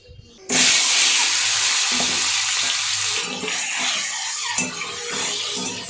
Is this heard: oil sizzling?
yes